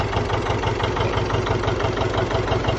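A John Deere 70 diesel tractor idles with a steady, loud, thumping low-pitched chug, each firing pulse evenly spaced and close by, with no voices over it.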